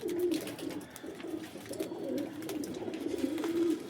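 A wild pigeon sitting in view gives repeated low, soft coos in short bursts, fairly quiet and close, with no voices.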